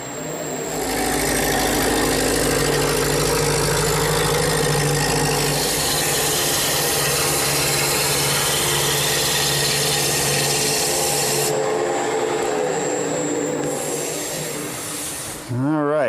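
Wood turns on a lathe in a workshop as a tool cuts the spinning piece, giving a sustained loud whirring and scraping hum that shifts in tone partway through and cuts off near the end.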